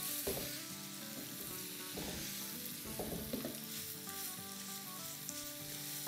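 Goat liver (kaleji) frying in oil in a pan, with a continuous soft sizzle and occasional scraping stirs and clinks, no talking.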